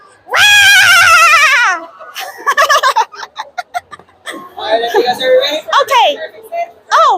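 A person imitates Donald Duck, letting out a long, loud, quacking scream followed by choppy, squawking duck-like vocal bursts, close and alone.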